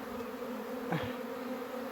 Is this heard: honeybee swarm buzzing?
yes